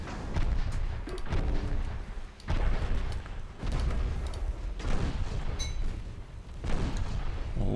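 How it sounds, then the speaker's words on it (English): Torpedoes and naval guns firing in a US campaign naval warfare game, with repeated heavy booming blasts and rumbling low-end thuds rolling in waves, loud and continuous. "A lot of torpedoes fired."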